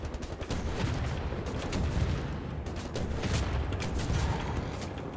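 Rapid gunfire in the video game Wolfenstein The New Order, with a dense stream of sharp repeated shots and mechanical clatter continuing loudly throughout.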